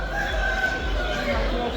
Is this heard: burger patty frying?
no